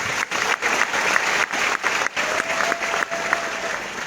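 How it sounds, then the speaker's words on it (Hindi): Sustained audience applause at a panel discussion event in Pune, dense steady clapping from a crowd filling the whole stretch with brief dips, fairly close and loud, no talking over it. "एक ताली हो जाए उनके लिए।"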